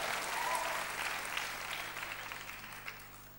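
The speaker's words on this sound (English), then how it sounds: "Clap those hands and shout unto God." A church congregation at an evening conference service claps and cheers, a dense burst of applause that gradually fades over a few seconds.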